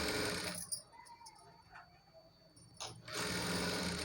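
A sewing machine stitches saree fabric into an umbrella frock, a close, steady whirring hum that stops briefly in the middle and then starts again at full speed.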